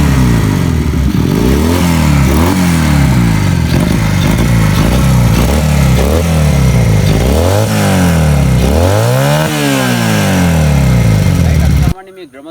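A modified 500cc motorcycle engine revs hard up close in repeated rising and falling surges over a loud, rough idle, with talk partly buried beneath it, before cutting off abruptly at the end.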